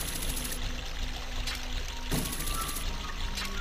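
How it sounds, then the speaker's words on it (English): A large waterfall cascade in the Water Temple of Zelda: Ocarina of Time, heard as a steady, broad rushing pour with a brief louder splash near the middle and no talk. "we're going to be going on this large waterfall cascade"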